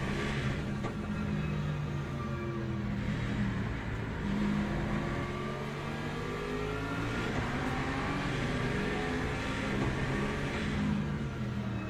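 WEC hypercars racing past at the Qatar circuit, a continuous engine drone at moderate distance that rises and falls in pitch through twelve seconds.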